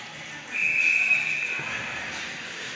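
Referee's whistle at a high school ice hockey game, a single sharp, sustained blast of about a second, clear above a murmuring arena crowd that lingers afterward.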